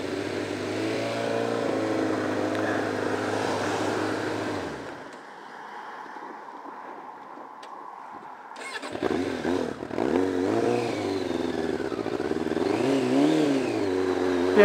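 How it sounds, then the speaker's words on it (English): A 1998 Suzuki GSX750W motorcycle engine, running rough, idles unevenly and loudly, then drops to a quieter, steadier hum before surging back with rough, uneven revving. "The engine doesn't run as smooth as it should do."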